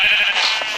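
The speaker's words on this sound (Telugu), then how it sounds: "గొర్రెలు." A single loud, close sheep bleat from the video game Minecraft, heard on its own.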